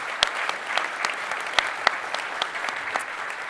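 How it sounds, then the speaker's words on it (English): Press conference audience applauding steadily throughout, a dense wash of many hands clapping at moderate level with a few sharper individual claps standing out. "Give them a round of applause."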